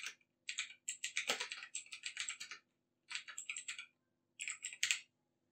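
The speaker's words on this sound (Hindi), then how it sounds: "Alt और K प्रेस करेंगे और क्रिएट पर एंटर कर देंगे" Quick bursts of typing on a computer keyboard while entering company details in Tally Prime accounting software, close and clear, with short pauses between runs of keystrokes.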